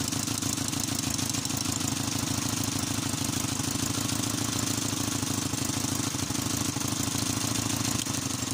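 An engine with a faulty spark plug runs steadily with a rapid, rough knocking pulse, loud and close, continuing unchanged throughout without any talking.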